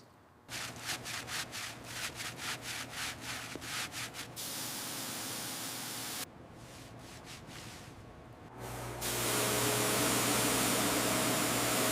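Rhythmic rubbing strokes of polishing the original headlamp on a 1926 Mack Model AB truck, close and steady, giving way to a continuous louder abrasive whir near the end, with no talking.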